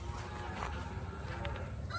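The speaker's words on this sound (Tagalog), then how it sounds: "Pabo." A pet turkey gobbles in a backyard where chickens and turkeys are being fed, a couple of honking calls heard nearby over steady low rustling.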